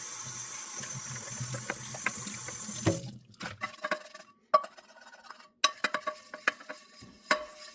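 Water runs into a stainless steel pan for about three seconds, then a brush scrubs it with warm soapy water in short, sharp swishes and scrapes, close and fairly quiet, with no talking.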